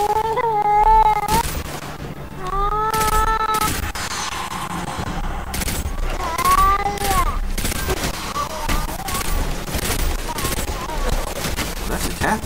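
Gunfire in the video game Destiny 2: loud, dense bursts and rapid volleys of shots run nearly nonstop, with whining synthetic tones rising and falling over them and voices talking in between.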